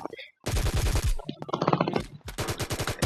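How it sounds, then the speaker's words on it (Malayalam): Rapid bursts of automatic gunfire from the video game Poly War, loud and close, firing in several quick clusters with brief pauses between them. "നമ്മൾ ഷൂട്ട് അടിച്ചിരിക്കുന്നു"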